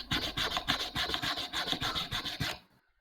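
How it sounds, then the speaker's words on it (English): Rapid rhythmic rasping of wood being sawn or scratched, a quick back-and-forth stroke repeated a dozen or so times, close and fairly quiet, stopping abruptly before the end. "Sounds like someone sawing something."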